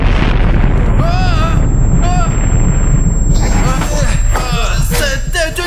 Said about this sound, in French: C'était une explosion.